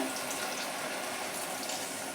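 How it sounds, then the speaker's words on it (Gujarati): A steady stream of water, about half a cup, runs and splashes close by into a pressure cooker, a soft continuous pouring with no talking over it. "આપણે થોડું પાણી એડ કરી લઈશું એની અંદર"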